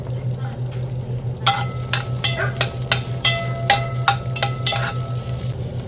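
Ginger sautéing in hot oil for chicken arroz caldo, a steady low sizzle under a series of sharp, irregular scrapes and taps of a utensil in the pan, close by.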